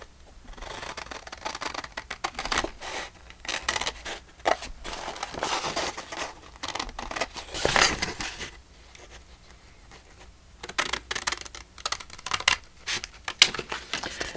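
Scissors snip through paper in bursts of quick, close cuts, with short pauses between runs while shapes for an idea journal are trimmed out and corners rounded.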